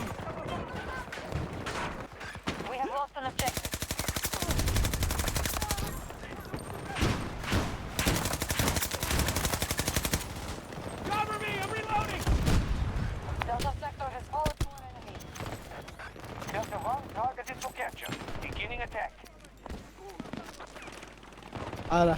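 Battlefield 2042 gunfire crackles in long, dense automatic bursts, loud and close, with a brief lull midway before more shots; voices of players chat over the shooting.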